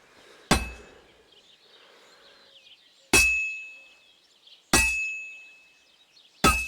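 A blacksmith's hammer strikes metal in Kingdom Come: Deliverance 2, ringing out four times at spaced intervals. Each clang is sharp and bright, with a sustained metallic ring that decays slowly, and softer scraping sounds lie between the strikes.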